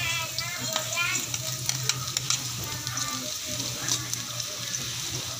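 Chorizo sautéing with garlic and onion for sotanghon guisado, a loud steady sizzle with scraping stirs and light clatter close by.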